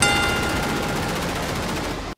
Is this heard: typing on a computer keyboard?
no